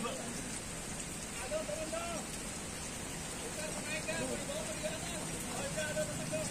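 Steady rain pours onto an outdoor football pitch during a halted match between PSP FC and Perseta FC, a dense continuous hiss with faint voices talking in the background.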